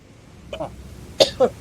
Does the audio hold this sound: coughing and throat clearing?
yes